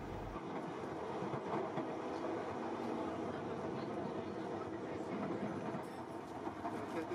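Arlecchino train running at speed, around 150 km/h, on the classic Milan to Venice line: a steady, loud rolling roar with rhythmic wheel clatter, heard from on board throughout with no voices.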